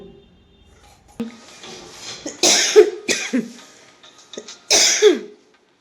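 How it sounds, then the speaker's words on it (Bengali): Repeated coughing from a woman with a sore, irritated throat while cooking at home, a few harsh bursts spread across several seconds, close and fairly loud. "আমার গলা ফুসফুস করছে তো তার জন্য বারে বারে কাশি হচ্ছে"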